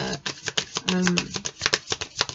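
Oracle cards are shuffled in quick, crisp riffling flicks at close range, with a brief voice murmuring partway through.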